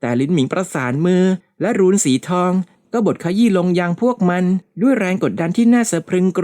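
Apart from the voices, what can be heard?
No distinct noise like a dog, phone or traffic.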